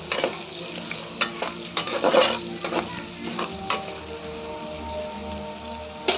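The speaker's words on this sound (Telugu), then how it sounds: "నెక్స్ట్ ఆనియన్, క్యారెట్, చిల్లీస్ ఇట్లా సన్నగా తరుక్కొని ముక్కలు ఆయిల్లో ఈ రెండు బాగా వేయించుకోవాలి" Chopped onion, carrot and chillies fry in hot oil, a close, steady sizzle and crackle broken by repeated sharp stirring scrapes and clatters against the pan.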